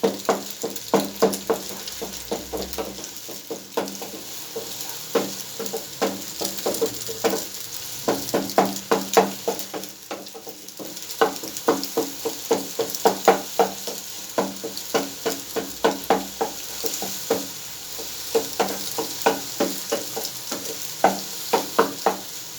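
Sweet scrambled egg is stirred in a pan: rapid, steady scraping and clicking of a utensil against the pan over a low sizzle, close and continuous with no voices.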